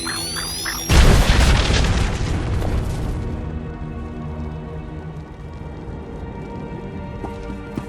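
In Star Wars: The Old Republic, a Republic transport explodes in a sudden deep boom after a brief high whine, then the blast rumbles and fades slowly over several seconds.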